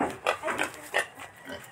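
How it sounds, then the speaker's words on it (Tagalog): A wild boar grunts near an open-area house, giving several short, rough grunts and snorts in an uneven rhythm. The calls are close and fairly loud, with no speech over them. "Ano yan, baboy ramo?"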